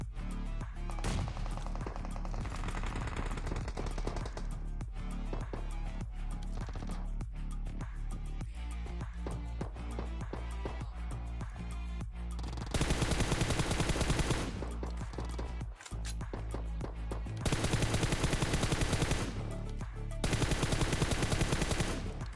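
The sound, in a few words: gunfire in a fierce battle in the PUBG video game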